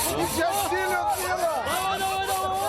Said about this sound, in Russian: председатель Госсовета и за пилу взялся